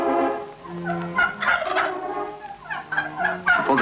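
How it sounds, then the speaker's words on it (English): Several Pembrokeshire turkeys gobble close by, overlapping bubbling calls rising and falling in quick bursts. "Pembrokeshire turkeys."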